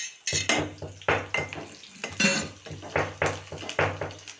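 Greens for kukana palya stir-fried in a pan: a spatula scrapes and clanks against the metal in repeated strokes about every half second, with a light sizzle underneath, close up and with no talk.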